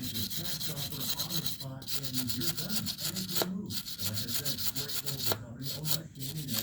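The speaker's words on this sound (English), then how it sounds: "as you brush it, the tar kind of curls up and the polish coats the tar" Brush bristles scrub polish over tar on the roof rail molding of a 1968 Camaro, a steady close rubbing and scratching that continues with brief pauses throughout.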